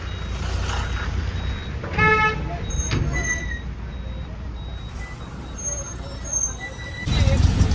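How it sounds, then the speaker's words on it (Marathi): A queue of big container trucks, tempos and buses waits near a school for vehicle passing inspection, with engine rumble, repeated horn toots and beeps; a person talks over the traffic. "किती मोठमोठे कंटेनर ट्रक टेम्पो बसेस शाळेच्या इकडे बघा सर्व पासिंगसाठी आल्या"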